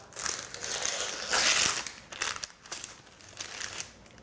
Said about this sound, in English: And then remove the paper